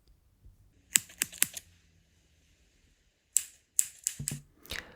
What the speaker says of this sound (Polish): te dźwięki samego strzyżenia nożyczek, no to były blisko mikrofonu